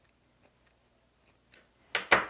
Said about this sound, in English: I will clip these curves as well